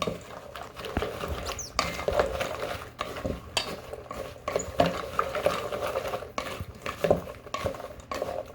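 Pecans being stirred into a candied coating mix, with busy scraping, clinking and pattering of nuts against a bowl or pan in an irregular rhythm, close and moderately loud, no talking.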